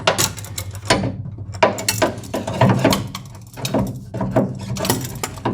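A wrench ratchets with a quick series of close clicks and clinks while tightening a power steering hose fitting on a 2001–2005 Honda Civic, coming in irregular short bursts.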